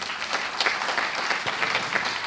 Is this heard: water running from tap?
no